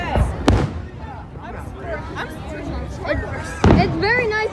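Fireworks at a downtown Toledo show in 2021 go off in two sharp booming bursts with crackling between them, while nearby spectators chatter.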